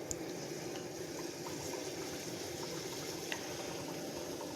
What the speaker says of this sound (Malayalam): എന്നിട്ട് നമുക്ക് എണ്ണയിൽ ഇട്ട് പൊരിച്ചെടുക്കുക.